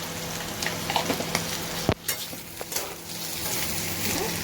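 A pan fries with turmeric powder added, crackling and sizzling closely while a spatula stirs and scrapes, including one sharp clank partway through, with no voices.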